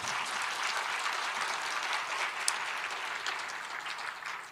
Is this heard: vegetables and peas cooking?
no